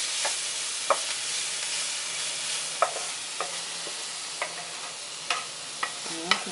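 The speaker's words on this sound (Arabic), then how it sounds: "يعني تشويح بس كده." Onions sauté in a hot pan with a steady, bright sizzle. Spatula clicks and scrapes against the pan recur every second or so, close and clear, with no talking.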